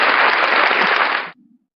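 A canned applause sound effect plays loud and steady, a dense wash of clapping that cuts off abruptly, leaving a brief faint murmur.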